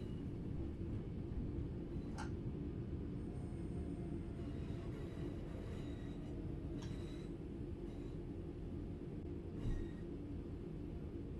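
A train runs in Train Sim World 4: a steady low rumble of rolling wheels and motor, with a few brief clicks and faint higher tones over it, and no talk.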